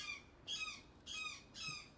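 A bird gives three harsh, evenly spaced squawks, faint and fairly distant, with nothing else heard between the calls.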